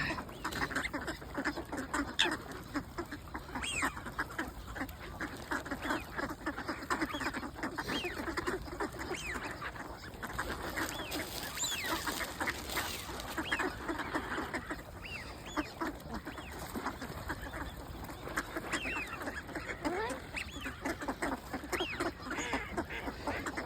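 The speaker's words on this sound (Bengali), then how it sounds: "দেশি হাঁসের মতো দেওয়া বড় হাঁস আছে।" Large ducks on water at a migratory bird spot in Japan, quacking continuously in a busy overlapping chorus throughout, moderately close with no voices.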